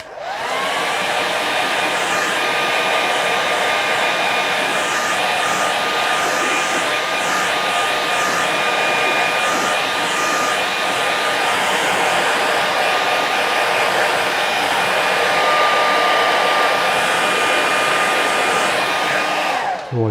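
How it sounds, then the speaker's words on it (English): A hair dryer blows on wet watercolour paint, a steady, close, unbroken whirring drone that holds an even pitch and loudness for about twenty seconds with no talking. "It's the beauty with the hairdryer."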